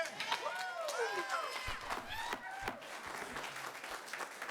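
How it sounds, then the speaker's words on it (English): An audience at a county commission meeting breaks into applause that runs steadily throughout, mixed with cheers and whoops from the crowd in a room. "Commissioner Fields, please hold your applause if you would till we get through, please."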